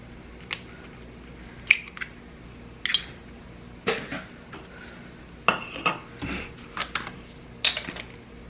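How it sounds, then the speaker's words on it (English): Cookie dough for chocolate strawberry cookies being mixed in a bowl, with a series of sharp clinks and scrapes from a utensil knocking the bowl at irregular intervals, close and fairly quiet, with no talking. "we're just gonna get this all mixed up in a bowl"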